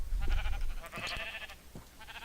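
Sheep in the Minecraft video game bleat in several overlapping calls, fairly close and clear, with a low rumble of ambient game sound underneath and no talking.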